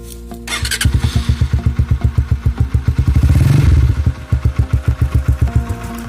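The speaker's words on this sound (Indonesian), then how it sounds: "Mari kita cek mesinnya, suara mesinnya dulu ya." A Minerva RX150 motorcycle engine, its exhaust plugged, starts and runs loud and close, its rhythmic pulsing rising briefly in a rev before settling back to a steady chug.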